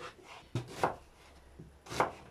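A kitchen knife chops vegetables for borscht on a cutting board, giving a few sharp, separate strikes at an uneven pace, close and clear with no talk.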